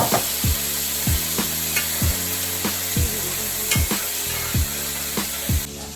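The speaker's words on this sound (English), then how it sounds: "when it's cooking like this, we're gonna go ahead and drop in this shrimp" Shrimp fry and sizzle in a hot pan with a steady crackling hiss, broken by regular, evenly spaced knocks and scrapes of stirring about twice a second.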